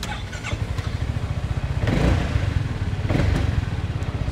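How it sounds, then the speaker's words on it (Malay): A Maxsym TL 500 scooter's engine runs close by at a steady, throbbing idle, then blips its throttle twice in quick surges before settling back. "Start dengan engine bunyi tengok dulu."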